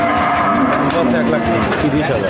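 A dairy cow with her heifer calf lows loudly and close by at the Chaugachha cattle market in Jessore, amid busy crowd chatter and other market noise.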